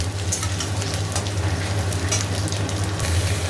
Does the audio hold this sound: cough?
no